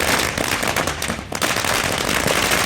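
Firecrackers burst in a dense, continuous crackling barrage at a street celebration in Nagpur, loud and close, with rapid overlapping pops and only a brief dip in intensity.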